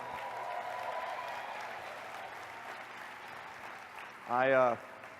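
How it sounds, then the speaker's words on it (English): Audience applause at a Tower Farms presentation, welcoming the developer of the Tower Garden: a steady, even wash of clapping through the whole stretch, with a short voice-like cry rising near the end. "let's give him a round of applause"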